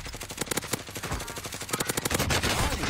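Video game gunfire, rapid bursts of automatic shots in quick rhythmic volleys, loud and close with brief gaps between strings of fire.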